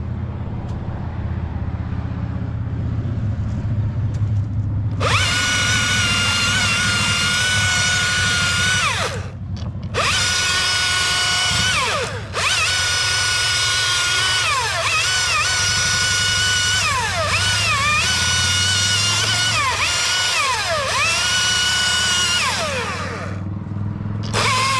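Chainsaw notching a large tree limb over a house, a loud high engine whine revving and bogging through the cut with brief drops in pitch, over a low idle rumble, close by and without talk.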